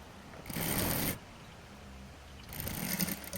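A sewing machine stitches a folded saree blouse in two bursts, a longer first run and a shorter second after a pause, with a rapid close mechanical whirring that stops and starts.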